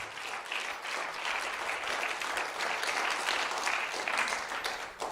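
Church congregation applauding during a sermon, a continuous, fairly distant roll of many hands clapping that holds steady throughout with no clear speech on top.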